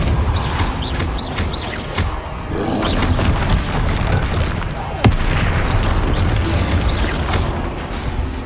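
Spell explosions boom and crash in Hogwarts Legacy combat, a dense run of blasts with one sharp crack near the middle, layered over game music and effects.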